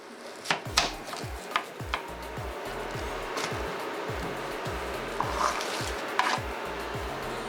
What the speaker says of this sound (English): Rough chop this, and then put it into the pot.